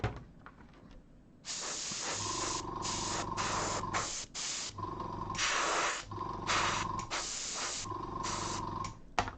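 Airbrush spraying paint onto miniature models for weathering metal areas, heard as repeated hissing bursts of varying length, close and steady, with short pauses between and a tonal hum underneath.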